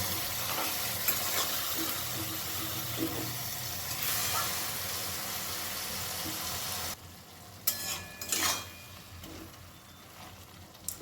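Bottle gourd greens with salt and a little turmeric sizzle and hiss in a pan, loud and steady at first, then dropping quieter with a few sharp scrapes of stirring near the end; no voices.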